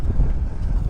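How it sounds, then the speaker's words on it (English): On a very windy day, wind buffets the microphone outdoors, making a continuous loud, low rumble that swells and dips for the whole second. "it's really windy today, so we gotta talk a little bit loud."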